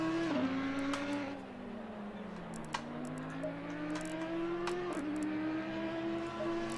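Race car on a track in the ACC sim racing game, its engine note rising and falling with gear changes as it accelerates and slows, a steady mid-level whine running throughout.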